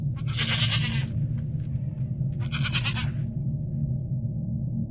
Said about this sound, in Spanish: el ruido de precisamente cabras balando se escuchó a lo lejos